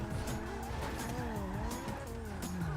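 A car in a video game revs and skids, its engine whining up and down over a continuous tire-squealing hiss, steady and moderately loud, with no clear speech.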